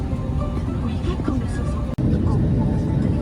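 Cabin rumble of a Vietnam Airlines A321neo airliner taxiing toward the runway at Singapore Changi Airport, a steady low drone that continues under a cabin announcement.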